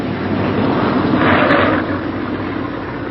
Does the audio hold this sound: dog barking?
no